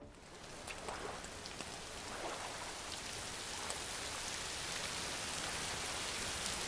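Steady rain falling, a dense continuous hiss of drops on a surface that grows slightly louder and fuller over time, with no voices.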